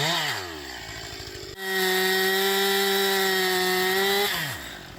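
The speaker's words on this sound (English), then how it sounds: "we're felling a few tall acacia trees that have been dead for quite some time" Chainsaw cutting dead acacia trees on a rural farm in Italy, a loud sustained whine that revs up, holds steady for several seconds and winds back down, with no talking.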